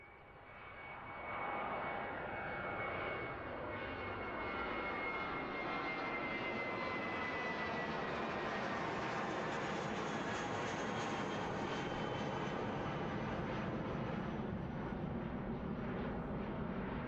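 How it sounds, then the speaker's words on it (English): A Jetstar Airbus A320 jet takes off at Christchurch Airport, engine roar swelling quickly to a loud, sustained broadband rumble with a whining tone, heard from nearby with no talking. "Jetstar 2330 off to Auckland. Hopefully nice and loud from the Jetstar Airbus A320s"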